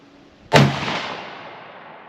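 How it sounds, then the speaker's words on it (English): A 1946 M44 rifle chambered in 7.62x54R fires a single loud, sharp shot outdoors at a steel target 100 yards away, the blast decaying into a long echoing tail. "So we'll shoot steel at 100."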